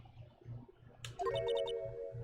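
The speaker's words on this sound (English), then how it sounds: "I know that song your phone plays when it rings." A cell phone ringtone plays a theme from the Ace Attorney video game, a short bright electronic jingle of quick repeated notes that starts suddenly over a faint, steady background hum.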